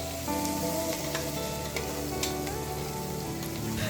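Curry leaves, coriander and mint fry in oil for biryani, making a loud, dense sizzle with scattered crackles and a faint hum underneath, and no voices.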